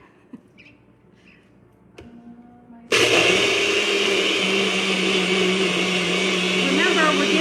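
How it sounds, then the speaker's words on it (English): A bullet blender whirs loudly into life after a few seconds of quiet clicks and handling, then roars steadily while blending a banana cream pie protein shake with ice, with a faint voice underneath. "Now we're gonna blend it in my bullet."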